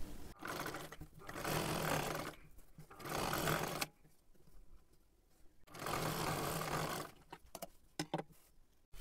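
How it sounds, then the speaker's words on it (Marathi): Sewing machine running in bursts while topstitching along the edge of a kurti, with three long loud runs separated by pauses and shorter stops and starts near the end, no talk. "इथे आपण दापटीप टाकून घेतली."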